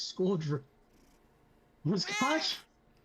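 Two short, high cat meows sound close by and fairly loud, separated by a brief quiet gap.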